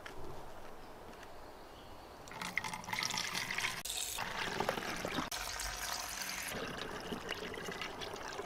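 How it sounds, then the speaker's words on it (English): Bordeaux mix, a liquid fungicide, poured through a funnel into a garden sprayer: a quiet trickle at first, then a louder, steady splashing pour that runs to the end with brief breaks. "I'm just going to pour it in carefully here through a funnel"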